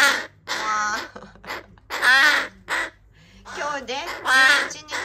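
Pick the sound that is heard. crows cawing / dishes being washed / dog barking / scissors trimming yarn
crows cawing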